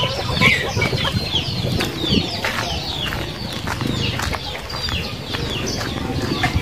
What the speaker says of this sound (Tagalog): Napakain tayo ng mga nangingitlog na manok.